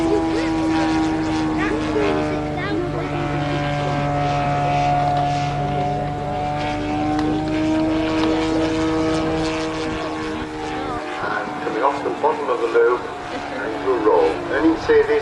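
Propeller-driven aerobatic aeroplane at an air show on a former RAF airfield, its engine droning steadily and building as it climbs into a loop, a sustained moderately distant tone that drops away near the end while a commentator talks over it.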